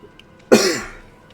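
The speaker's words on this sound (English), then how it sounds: "Stop coughing, body," A single sharp cough bursts out midway, close and loud, trailing off over about half a second in otherwise quiet surroundings.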